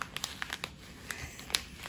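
A plastic bag crinkles in short, scattered bursts while vine leaves are rolled for a vegan Arabic stuffed-leaf dish, the crackles close and fairly quiet with brief gaps between them.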